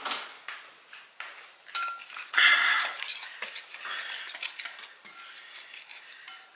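Hands rummaging through a drawer of kitchen utensils for a small whisk, with irregular metallic clinks, rattles and scrapes of cutlery and tools knocking together close by, no talk.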